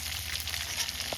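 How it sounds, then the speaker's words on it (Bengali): Potatoes fry in hot oil, giving a steady, close crackling sizzle with no talk. "ওই তেলের মধ্যে আলুগুলো দিয়ে দিচ্ছি এবার"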